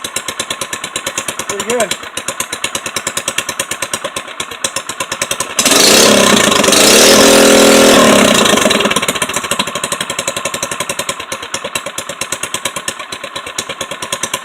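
A small 97cc Baja gas engine, leaking oil, putters with a rapid, steady pulsing beat, swelling into a louder, rougher roar midway before settling back; someone speaks briefly.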